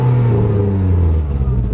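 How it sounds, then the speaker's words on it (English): A close, deep naturally aspirated engine rumble from a Renault Clio RS 197 holds steady and then fades slightly, with no talk, a short burst of low mechanical drone. "I love the sound of a naturally aspirated engine"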